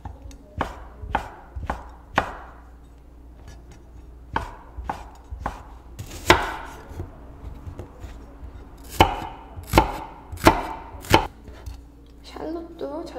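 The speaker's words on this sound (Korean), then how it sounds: "잘게 다져줄게요." Kitchen knife finely chopping shiitake mushrooms on a board for truffle risotto, sharp irregular cutting strikes in short bursts, close and clear, no one speaking.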